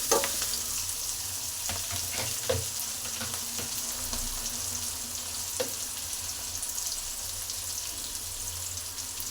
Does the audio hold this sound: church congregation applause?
no